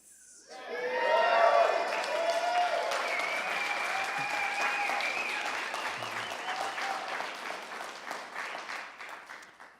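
A townhall audience bursts into loud applause with scattered cheers and whoops, swelling quickly and holding before gradually thinning out.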